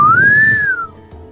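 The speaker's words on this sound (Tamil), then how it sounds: "அந்த நேரத்தில் ஒரு விசில் சவுண்டு." A single human whistle in a quiet, deserted beach setting for a crime story: one clear rising then steady tone lasting under a second, loud and close, fading out with no talk.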